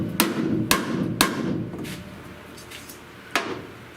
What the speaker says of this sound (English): So I'm not gonna hit this that hard. I just want to hammer that in